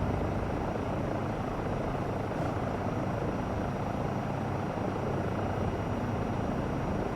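A Eurocopter EC135 helicopter in Flight Simulator 2024 drones with a loud, continuous rotor and turbine roar that stays steady and close throughout, no speech over it.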